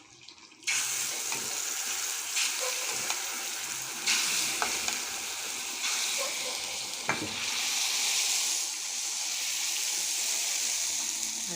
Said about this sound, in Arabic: ناخد بقى شويه ملوخيه من هنا كده نقلبها كده ونحط بقى على الطاسه